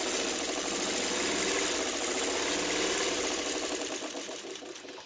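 A sewing machine stitches a quarter-inch quilt seam with a rapid, even mechanical chatter up close, easing slightly toward the end.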